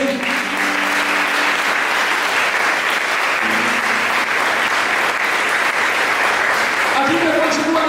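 A church congregation applauds steadily for several seconds, a dense sustained wash of many hands clapping at close range with little variation in level.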